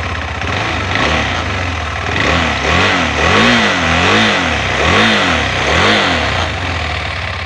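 A KTM 390 Adventure motorcycle engine running loudly nearby on its side stand, its pitch swelling and dropping in repeated revs over a rumbling idle, with no talking.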